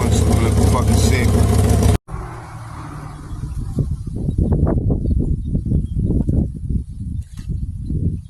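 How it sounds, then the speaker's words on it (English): A hot rod engine with a large exhaust leak and burnt-out exhaust pipes runs loud and raspy for a couple of seconds, then drops lower as someone talks over it. "the exhaust has a big ass exhaust leak. That's what you hear over there."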